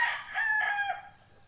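A Rhode Island Red rooster crows in one drawn-out call, a rising and falling cock-a-doodle-doo heard close and fairly clear, fading at the end.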